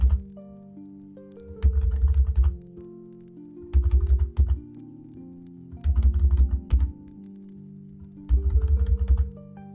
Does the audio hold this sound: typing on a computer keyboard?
yes